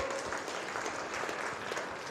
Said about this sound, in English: One more round of applause for Next Horizon.